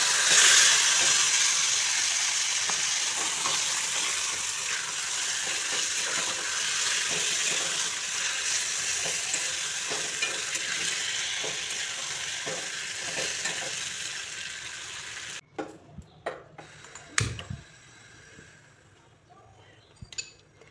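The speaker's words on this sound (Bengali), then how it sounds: "কচুটাকেও আমি কষিয়ে নিয়েছিলাম, তাও দিয়ে দিচ্ছি" Taro, already stir-fried, goes into a pan with grated coconut for a taro greens dish and fries with a steady sizzle and clinks of utensils. The frying cuts out near the end, leaving a few scattered knocks and clatters.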